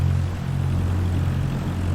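Steady, close droning of a Textron Aviation Skyhawk propeller plane's engine in Microsoft Flight Simulator, a constant low hum holding level throughout with no talk over it.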